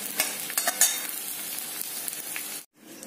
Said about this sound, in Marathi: बघा कसा तुपामध्ये गरम फुलत आहे हा।